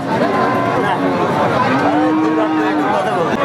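Cows at a livestock market low with a drawn-out moo amid a steady crowd murmur and nearby chatter.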